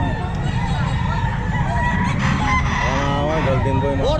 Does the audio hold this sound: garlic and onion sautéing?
no